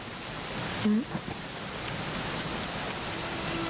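Steady rain pours down in Dragon Quest XI S, a dense even hiss with a brief tonal blip near the start, continuing unbroken under the game's ambience.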